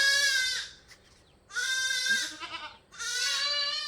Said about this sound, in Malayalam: രണ്ടാം പ്രസവത്തിലുള്ള ഒരു മലബാരി ആട്